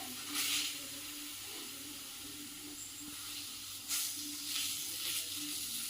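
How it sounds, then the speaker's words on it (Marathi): Dhapate flatbread cooks on a hot tawa with a soft, steady sizzle, broken by a few louder hissing bursts. "अशा प्रकारे धपाट तव्यावरही टाकून झाले"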